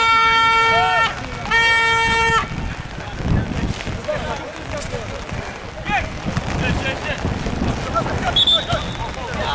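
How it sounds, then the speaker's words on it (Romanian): Strong wind buffets a camera microphone at an outdoor football match, a loud, rumbling low roar that swells and gusts throughout, with someone speaking over it and a brief whistle-like tone early on. "Păi ce bate curva asta de vânt"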